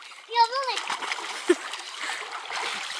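Water splashes and churns in a backyard swimming pool as people make waves, with children's voices calling and chattering over the sloshing.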